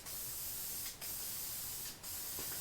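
A spray can hisses steadily onto a diesel oil pan, running in two long continuous bursts broken by brief pauses, close and alone.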